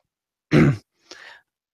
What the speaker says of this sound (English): politely coughing as it echoes around the chamber